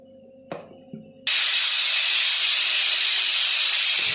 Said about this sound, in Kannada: ಕುಕ್ಕರ್ ಓಪನ್ ಮಾಡ್ತೀನಿ, ಸ್ಟವ್ ಆಫ್ ಮಾಡಿಕೊಂಡು.